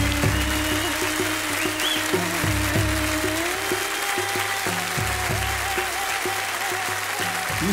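Applause from a cabaret audience for a balancing-sticks act rolls on steadily while music with a bass line and rhythmic beat plays loudly underneath.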